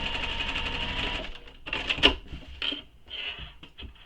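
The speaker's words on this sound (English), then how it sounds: "I'm coming back over that next strap anchor, back stitch over it." A sewing machine back stitching over a strap anchor on a shoulder bag, with a steady buzzing whir of stitches that pauses, then comes back in short close bursts, with no voices.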